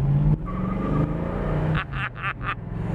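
A 1967 Ford Mustang with a 390 V8 grumbles steadily at half throttle, a low continuous engine drone heard from inside the car, with a few brief higher tire or wind whines near the end.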